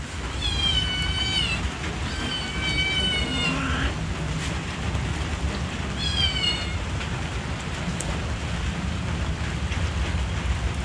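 Several cats kept alongside dogs in a home in Vinh Long meow in drawn-out, rising cries, a few calls in quick succession and another burst later, over a constant hiss of rain or background noise.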